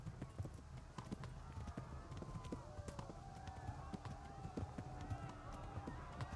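Horse hooves clip-clopping at a run in the medieval game Kingdom Come: Deliverance, a steady rhythmic gallop under game ambience and scattered clatter throughout, with a brief whinny possible.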